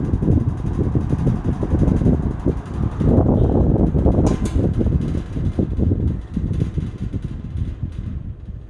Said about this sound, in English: Eskimo 20137 20-inch box fan